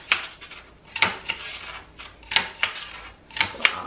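A hole punch bites through a paper plate in a series of crisp, irregular clicks and snaps, close and fairly quiet, with no voices.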